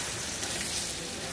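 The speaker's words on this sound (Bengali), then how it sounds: "আর প্রায় 2 চা চামচের মতো মরিচ দিব, গুঁড়া মরিচ। এই ঝালটা যার যার স্বাদ মতো নিয়ে এর সাথে একটু ভেজে নিই আধা মিনিটের মতো" Chili powder frying briefly in a pan with other ingredients while preparing potato and kakrol curry with mung dal, giving a steady, close hiss and sizzle with no talking.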